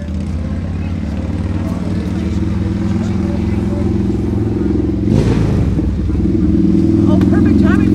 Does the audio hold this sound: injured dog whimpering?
no